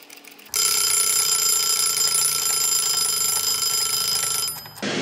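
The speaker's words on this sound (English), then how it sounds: "I'm going to set my timer for 5 minutes" Kitchen cooking timer going off: a loud, continuous electronic beeping alarm starts abruptly after a short quiet moment, holds steady for about four seconds, then stops, close to the listener and with no talking.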